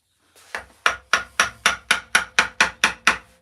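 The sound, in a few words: carving wood with a gouge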